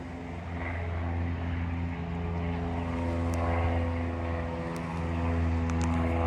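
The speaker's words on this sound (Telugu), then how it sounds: "హెలికాప్టర్, అది అక్కడి నుంచి వచ్చిందే," A helicopter from a nearby training center flies overhead, a loud, continuous rotor-and-engine drone that holds steady and swells slightly toward the end, with no talk.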